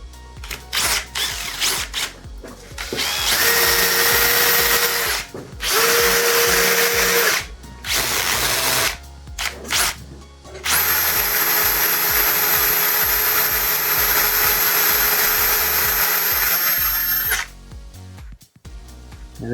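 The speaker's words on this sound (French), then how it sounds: "C'est une petite brosse à nylon." A power drill fitted with a small nylon brush scrubs a part from an Apal Multimaco buggy, whining loudly in several long sustained runs with brief pauses between, ending in one extended burst.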